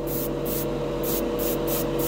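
A Badger airbrush sprays Golden High Flow acrylic paint onto plastic with a steady close hiss, pulsing in short bursts as the trigger is worked, loud and alone.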